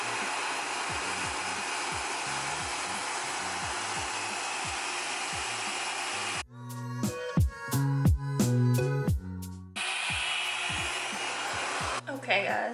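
A RevAir hair dryer blows with a steady loud whoosh, then cuts out briefly while tapping and handling noises take over before the airflow resumes.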